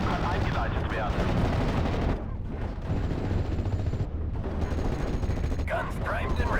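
Constant gunfire rattles in the WWII strategy game Steel Division: Normandy 44, with machine-gun bursts and heavier artillery booms layered in a dense, loud battle din while voices shout over it.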